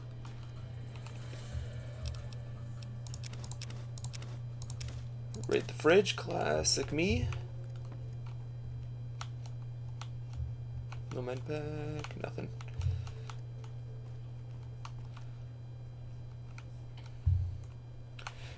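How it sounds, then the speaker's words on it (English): A computer keyboard clicks in scattered bursts during PC gaming, played on mouse and keyboard, with a steady low hum throughout and a person talking over it. "I'm playing on mouse and keyboard right now"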